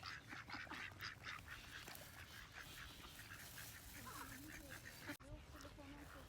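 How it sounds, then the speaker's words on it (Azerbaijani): Ducks quack at intervals on a town waterfront in Sheki, Azerbaijan, rising over steady outdoor ambience and crowd murmur, with a sharp knock near the end. "Ördəkləri izləyirəm bayaqdan."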